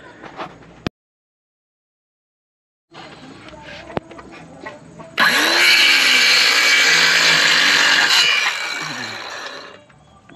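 Wood boards being cut for the legs of a chicken and bird feeder. A few clicks and brief handling noises, a silent gap, then a loud, harsh power saw cutting for about three seconds before winding down, close to the microphone.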